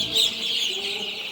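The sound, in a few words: colour bird chickens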